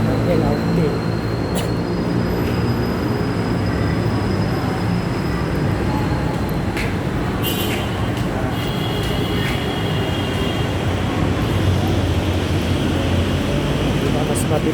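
An LRT train passes near the station stairs, a loud sustained rumble of rail wheels and carriages with metallic squeals and clanks rising above the roar throughout.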